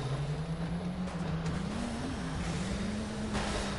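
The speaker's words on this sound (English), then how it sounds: "I'm trying to let you hear my engine" Engine drone of a car in the brawler game Gang Beasts, a steady low hum that wavers slightly in pitch and holds throughout at a moderate level over background noise.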